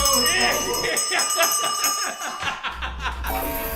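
A hand bell rings in a rapid series of bright metallic dings, close and loud, with people laughing and talking over and around it.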